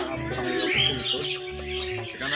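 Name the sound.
pigeons of many breeds cooing on a rooftop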